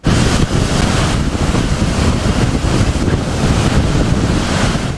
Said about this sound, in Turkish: Dev dalgalar kıyıya vurdu.